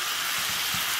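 A frying pan of chicken feet seasoned with paprika sizzles with a steady, bright hiss and crackle after a little water is added, loud and continuous with no voices.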